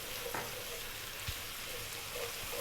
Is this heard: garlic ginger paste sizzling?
yes